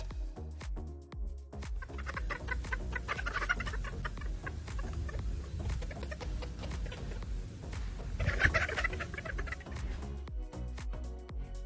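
Sebright bantam chickens cluck and chatter steadily nearby, with a few louder squawks rising above the flock's continuous murmuring.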